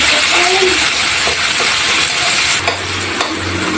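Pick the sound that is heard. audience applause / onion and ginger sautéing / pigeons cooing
onion and ginger sautéing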